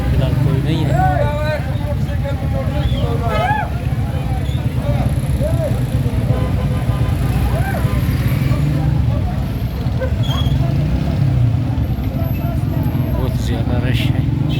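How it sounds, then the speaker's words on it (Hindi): A traffic jam at Damani Chowk in Duki, Juma Bazar, on a cold day: a loud, continuous rumble of car, bus and motorcycle engines, with several horn-like toots and chatter from people nearby. "आज रश की वजह से भी ट्रैफिक जाम है"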